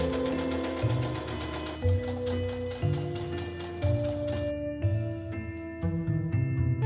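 Sewing machine stitching a seam on a Lydia Deetz costume, a fast steady mechanical whir running throughout at moderate volume beneath background music.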